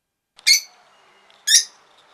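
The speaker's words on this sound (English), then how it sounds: "Pretty bird." Outdoors, a bird gives two bright, loud chirps about a second apart against near silence, each one short and crisp.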